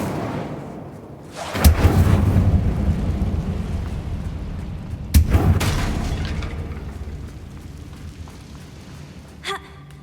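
The Incendio fire spell is cast in the Hogwarts Legacy video game: two sudden, loud whooshing bursts, each followed by a long roaring fade, then a brief, small chime near the end.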